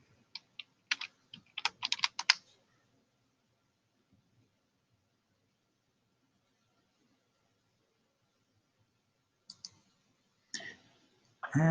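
Typing on a computer keyboard during a math lesson, with a quick burst of close key clicks at the start and a few more clicks near the end, separated by a long quiet stretch.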